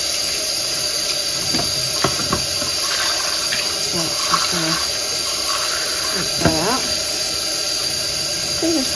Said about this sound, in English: I'm going to give these a rinse through.